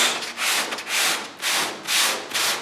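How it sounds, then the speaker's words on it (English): Car body filler on a classic Mustang is block sanded by hand with a round block and 180-grit paper, making about five rhythmic, raspy back-and-forth strokes close up with no voices. "I've been block sanding it. And basically, I've been using the round block 180 grit"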